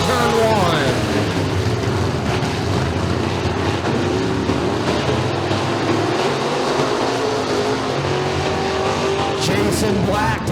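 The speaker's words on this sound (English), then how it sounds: "Allows Boardman to go rumbling on by." Race cars rumble around a turn at Bradford Speedway during heat races, a loud dense engine roar that holds steady throughout with rising and falling revs, while an announcer talks over it.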